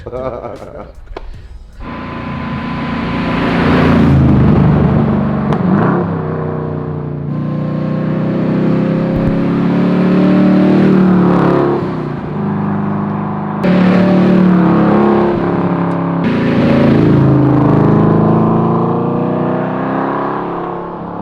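A twin-turbo 1969 Camaro engine hums and surges as the car drives, with rising revs and gear changes in a steady loud drone, nearby.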